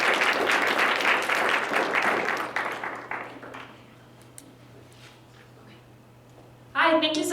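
An audience claps warmly to welcome a speaker at a food labor panel, loud sustained applause that fades out to a quiet room, then a voice begins speaking at the end.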